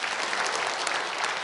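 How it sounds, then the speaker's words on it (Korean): A church congregation claps together during a Sunday service, dense steady applause filling a large room from start to finish. "그럼 박수 한번 칩시다."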